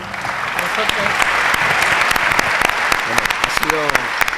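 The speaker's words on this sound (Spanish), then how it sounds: "aplauso, por favor" A room full of session attendees breaks into hearty applause, dense and continuous with sharp individual claps standing out near and loud, while a voice speaks briefly over the clapping toward the end.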